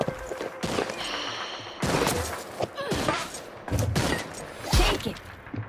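Gunfire bursts in the video game Hyper Scape arrive as several sharp, loud clusters of shots spread across the moment, mixed with game effects and some voice chatter.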